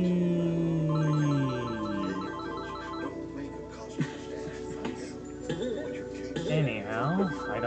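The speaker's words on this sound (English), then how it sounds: "ignore the cell phone ringing back there." A cell phone rings in the background during gameplay of Gex: Enter the Gecko on PS1, a repeating electronic ringtone pattern over game music, with a voice talking on top.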